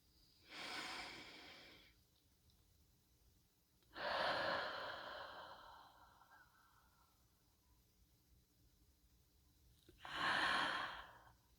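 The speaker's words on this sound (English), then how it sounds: "I'm going to take a few breaths and open the channel." Three slow, deep breaths, each a long airy inhale-exhale a few seconds apart, close and soft in an otherwise quiet room.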